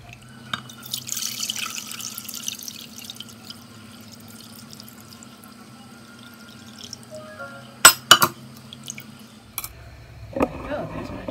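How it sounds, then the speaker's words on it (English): Jewelweed liquid drips and trickles through a strainer. The sound is faint and close, with a steady faucet-like hum underneath and a few sharper clinks and splashes near the end. "I'll use a strainer to get the rest out"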